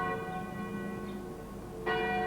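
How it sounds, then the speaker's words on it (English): A church bell brought by early settlers, hung from a tripod instead of a steeple, rings alone with sustained, ringing overtones that decay, then sounds a second loud strike near the end. "Instead, they hung the bell from a tripod and rang it every hour."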